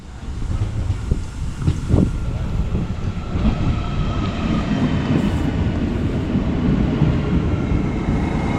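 An Alstom Coradia Continental train on the Erms Valley Railway in Germany rumbles steadily nearby with low clattering wheels and a faint squeal, the noise holding loud and constant throughout.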